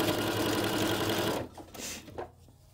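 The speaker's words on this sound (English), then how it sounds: "And I'm going to keep sewing until I get to the end." A sewing machine stitches a rod pocket on a quilt with a steady, fast mechanical whirr, close and clear. It runs for over a second, then stops and leaves only faint handling noises.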